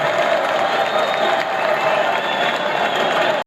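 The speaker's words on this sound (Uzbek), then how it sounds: "Qarsak Dehqon polvonga, Muhidin polvonga bitta qarsak bo'lsin" A festival crowd at a Navroz wrestling bout claps and cheers for the wrestlers, a dense continuous wash of applause heard up close, with a voice faintly under it.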